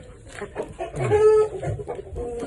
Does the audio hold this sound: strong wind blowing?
no